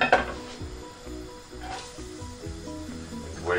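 Chopped onion dropped into a hot pan, a clatter at the start followed by a steady, crackling sizzle that continues at moderate volume, close up.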